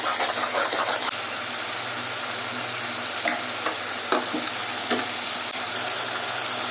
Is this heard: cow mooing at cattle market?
no